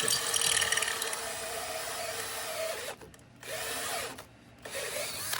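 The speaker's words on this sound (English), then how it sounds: "My battery might be getting a little low on the drill." A cordless drill on a bumper-mounted vise runs on a low battery, its whirring motor loud and steady, then cutting out twice into brief near-silence before spinning up again, with a slight ratcheting, labored quality.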